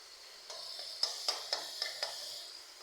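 Chopped garlic, dried chili and chopped onion frying with red amaranth greens produce a faint, soft sizzle, with a few quick light clicks of a spatula stirring the pan, close and quiet.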